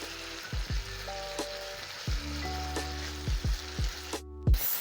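Beef cooking with spices in a thickened sauce sizzles steadily in a pan, a soft continuous crackle broken by several low clattering stirs of a utensil against the pan.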